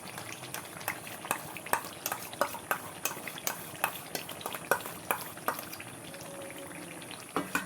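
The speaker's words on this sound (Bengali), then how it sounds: "এবার টক দইটা দিয়ে ভালো করে আবার কষিয়ে নেব।" Chicken curry with yogurt stirred and sautéed in a pan, a soft steady sizzle broken by regular spoon scrapes and clinks against the pan, close and moderately quiet, with no talking.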